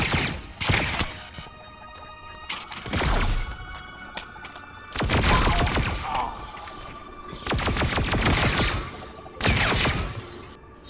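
Shotgun blasts in the VR game Star Wars: Tales from the Galaxy's Edge, five heavy booming shots spaced a couple of seconds apart, loud and close, each trailing a mechanical rattle.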